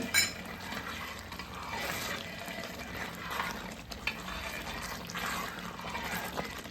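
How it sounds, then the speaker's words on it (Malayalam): Crushed cardamom being stirred into Sabarimala aravana prasadam, a sweet temple offering with dry ginger, in a pot: steady scraping and soft wet stirring with faint sizzle, continuous and close, with no talk. "നല്ലപോലെ ഇളക്കി കൊടുക്കണം."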